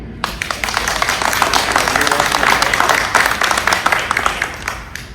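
An audience at a Republican political forum bursts into sustained applause, dense clapping rising and holding loud for several seconds before beginning to thin out.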